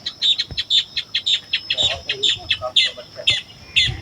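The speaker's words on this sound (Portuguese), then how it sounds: "Olha, pessoal, tem passarinho já lá, ó, comendo mamão." Small birds eating papaya at a country property chirp in quick, bright bursts, repeated rapidly and close, with a few soft thumps and low background noise.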